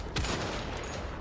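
A single gunshot in Wolfenstein: The Old Blood, a sharp, loud crack followed by a broad, noisy tail that lingers.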